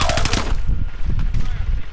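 Rapid automatic gunfire in the shooter game Warzone crackles in a loud, dense burst, then trails off into scattered, quieter shots.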